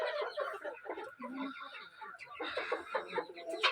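Chickens inside a coop clucking and murmuring in a dense, continuous chorus, fairly close, with overlapping calls and no clear pauses.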